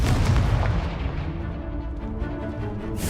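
A Confringo blasting spell explodes in the Hogwarts Legacy video game as a heavy booming blast that rumbles and fades, followed by a sharp crack near the end.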